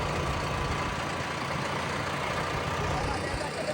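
A tractor engine runs during sugarcane sowing on a Punjab farm, producing a loud, steady, close diesel drone with no break throughout.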